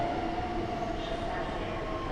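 A partly graffiti-covered S1 line suburban train runs at Warszawa Zachodnia station while the station is under construction. Its rumble is a steady, dense roar with a faint high squeal running through it.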